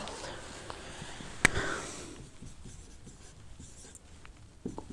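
Writing on a board during a biology lecture makes a sharp stroke followed by softer scratching and tapping, close and fairly faint, with a quiet room in the background.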